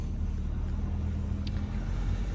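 Steady low engine hum and road rumble inside a car driving home through a village, constant and close with no distinct events.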